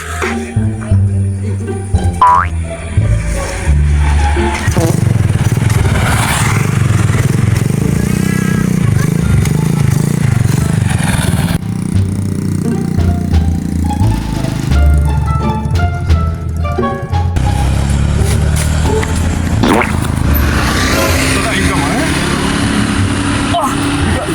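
A motocross motorcycle engine roars loudly and steadily for the whole stretch, revving up and down close by, while people talk over it.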